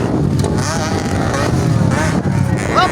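Enduro motorcycles in a local endurocross race at Vermosa, Cavite roar with loud exhausts, their engines droning and revving steadily and close, while an excited commentator talks over them throughout.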